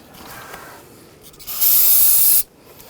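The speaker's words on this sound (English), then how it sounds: "just use a little brake parts cleaner and a rag" A short, loud aerosol hiss of brake parts cleaner sprayed during turbocharger and exhaust manifold work on a Volkswagen Tiguan, lasting under a second amid quiet shop rustling.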